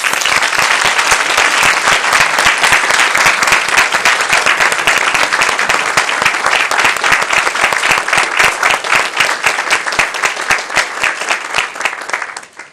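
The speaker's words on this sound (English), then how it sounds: "Let's give them all a round of applause." Loud, sustained applause from a crowd at a school board meeting, dense steady clapping that continues evenly before thinning out and fading at the end.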